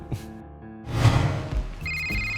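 A telephone rings with bright, repeated electronic bell tones that rise in the second half over a background of room clatter and low rumble, with no speech.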